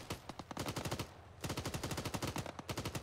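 Rapid machine gun fire in the video game Arma 3, loud, sharp bursts of closely spaced shots, a short pause after about a second, then a long sustained burst and a final short volley.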